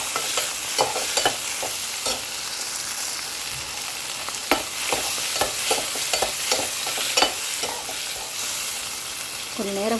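Tomatoes, onions and salt sauté in a pan for a fish curry, a steady broadband sizzle broken by repeated sharp scrapes and taps of a spoon stirring, close and fairly loud, with no talking.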